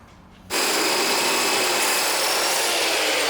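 A power drill kicks in abruptly and bites into metal on a kart build, a harsh, steady high-pitched grinding whine that stays loud and continuous after a quiet start.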